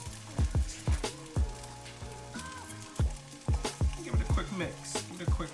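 Egg cooking in coconut oil and being stirred into salmon fried rice, with repeated sharp spatula scrapes and knocks in an irregular rhythm over a continuous close sizzle.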